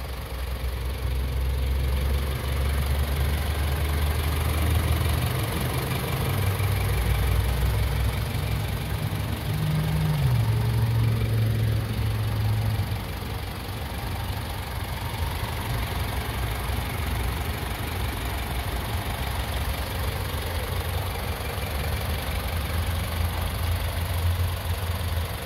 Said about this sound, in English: But this is the turbo engine.